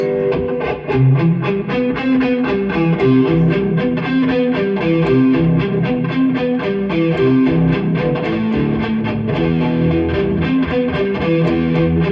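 A distorted electric guitar riff plays continuously with steady rhythmic chords and driving beats, loud and full, with no voices.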